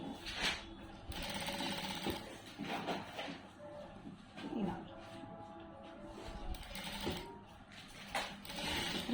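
A sewing machine with a normal presser foot stitches piping onto a blouse, its rapid mechanical whirr running in bursts with short pauses, close and fairly loud, with a voice talking over it.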